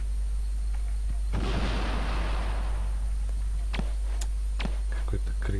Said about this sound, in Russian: Тут тоже надо взрывать.